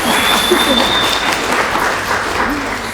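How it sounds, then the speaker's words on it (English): Steady audience applause at a panel discussion fills the whole stretch, with a few voices and cheers mixed in beneath the clapping. "give them a big round of applause"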